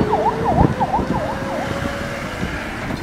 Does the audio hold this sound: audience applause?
no